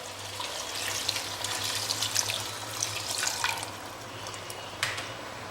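Water poured into mutton curry in a pan, a close trickling splash with faint sizzle and clinks over a low background hum, no talking.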